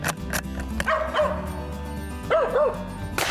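A hunting dog on a fox squirrel hunt yips and barks in a few sharp bursts, with whimpering notes between, close and loud outdoors.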